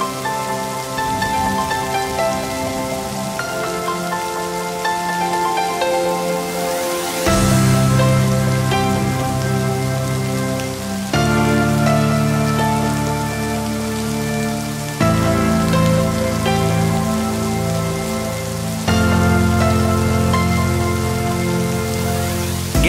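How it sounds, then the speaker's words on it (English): Steady rain patters on surfaces alongside sustained tonal music with shifting chords, fairly loud and continuous throughout. "It's raining."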